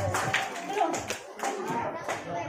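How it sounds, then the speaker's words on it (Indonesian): A small group at a children's Quran class claps in a quick, scattered burst of applause, fairly close, with a voice talking over it. "Beri tepuk tangan dulu untuk Adik Sofiani."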